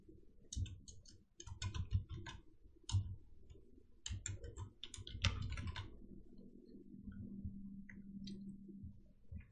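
Quick, irregular keystrokes on a computer keyboard, crisp close clicks in short flurries and pauses over a quiet low hum.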